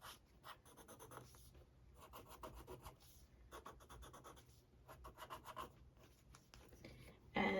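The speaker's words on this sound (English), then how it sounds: "This is the General's charcoal pencil." A General's charcoal pencil scratches and rubs across journal paper in quick, uneven strokes with short pauses, very close and faint, with no voices.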